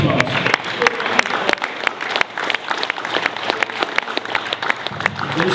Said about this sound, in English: I just want to again get his brother a round of applause and give yourself a round of applause.